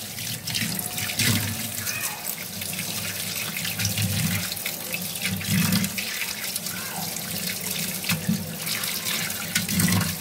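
A kitchen tap runs in a steady, close gush while freshly cut fish are rinsed beneath it, with irregular splashes and knocks as the pieces are handled.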